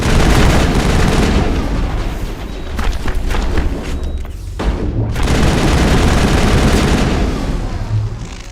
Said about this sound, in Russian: Это я, блин, стреляю в Рекса